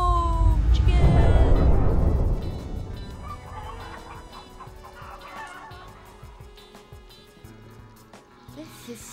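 Chicken in Minecraft: Story Mode clucking and squawking loudly at first, then fading into quieter scattered game sounds and light clicks; a voice is heard.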